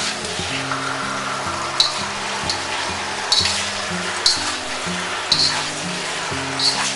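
Ribeye steak and soft tofu sizzle steadily in a hot wok on a home stove, with a close, continuous fry broken by a few light clinks of a utensil against the pan as the food is gently stirred.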